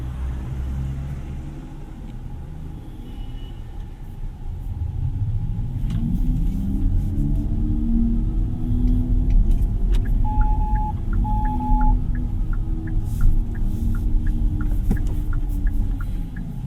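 A Hyundai IONIQ 6 GLS electric car drives at a steady low, throbbing hum that rises and swells like a spaceship as it speeds up, with faint chimes partway through and no talking.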